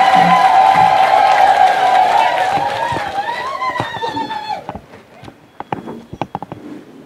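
Ululation trills mixed with crowd cheering fill a deacon ordination ceremony in Katoro, then fade into scattered, uneven clapping in the final seconds.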